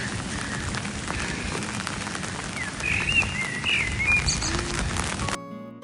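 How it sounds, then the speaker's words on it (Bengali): Rain falling at night with a steady hiss of drops on surfaces, while a few thin bird calls and chirps break through in the second half, fairly faint and distant, before the sound cuts off near the end. "পাখির ডাকও শোনা যাচ্ছে"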